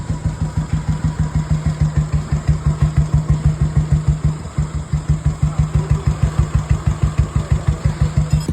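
A Bullet motorcycle engine idles steadily with a rapid, even thumping rhythm, loud and close, running throughout without voices.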